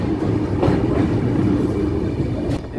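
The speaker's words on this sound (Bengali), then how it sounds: "মাঝখান থেকে এরকম সিঙ্গেল লাইন ধরে আমাদের কাঞ্চনকন্যা ছুটে চলেছে।" Kanchan Kanya Express rolling along a single-track line through North Bengal, a steady loud rumble of wheels and carriages heard close from on board, with faint rhythmic clatter and no voices.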